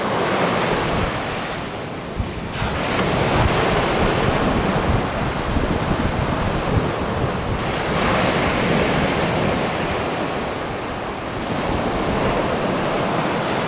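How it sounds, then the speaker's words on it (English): Gulf of Mexico surf rolling onto the beach at Anna Maria Island, Florida, a loud continuous roar of breaking waves mixed with heavy wind buffeting the microphone, swelling and easing in slow surges with no talking. "I love the ocean."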